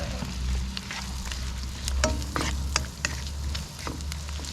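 Onions frying in a pan of oil, a constant sizzle with repeated clicks and scrapes of a spoon stirring, close by and without speech.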